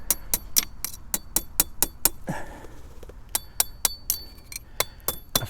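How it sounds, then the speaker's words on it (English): Hammer strikes driving a metal yard sign stand into hard ground for a medium 2'x4' political sign: a rapid, steady series of sharp, ringing metallic hits, close and loud, with a brief pause before the pounding resumes. "I'm going to push this out of the way so I can hammer."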